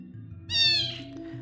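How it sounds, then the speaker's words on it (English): A tiny kitten, less than a month old, gives one clear, high-pitched meow of about half a second, close by and loud, over a low steady indoor hum. "Once in a while you will probably hear my kitten is meowing."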